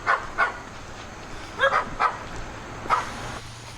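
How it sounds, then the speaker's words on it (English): Dogs bark in a small town in Pennsylvania along a hiking trail: several sharp barks come in irregular pairs and bursts at moderate distance, heard over faint background noise. "Barking dogs and everything."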